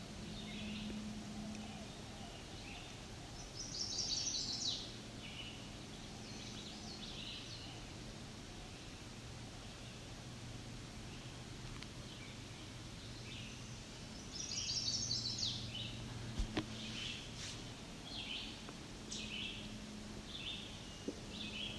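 Out on juniper flats, a chestnut-sided warbler sings two clear bursts of high, sweet notes about ten seconds apart, moderately near, against a quiet backdrop of rustling and low hum with no talking.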